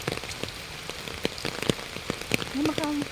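Rain falls steadily at an eagle park in Davao, a continuous patter of drops on surfaces with scattered sharper drip ticks, fairly close, with a brief low voice or bird-like tone near the end.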